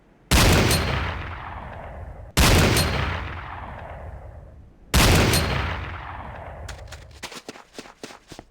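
Three loud, close gunshots from Command & Conquer: Renegade firing-range practice, each a sharp crack with a long decaying tail, evenly spaced about two and a half seconds apart, followed by a rapid burst of lighter shots.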